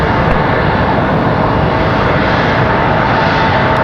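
A Delta 737-900 bound for Salt Lake City takes off from runway 23 left at Raleigh-Durham airport, its jet engines a loud, steady broadband roar that fills the whole clip without a break.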